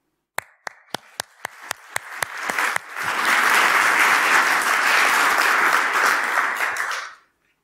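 After a cyber threat intelligence talk, a few sharp, separate claps ring out first, then the audience joins in a full, even round of applause that holds strongly before ending abruptly.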